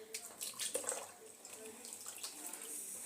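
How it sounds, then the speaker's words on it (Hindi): Water is poured into semolina idli batter and stirred in by hand: light splashing and wet stirring with small drips, quiet and close, with a faint background hum. "तो थोड़ा सा पानी इस तरह डाल के मिला देंगे।"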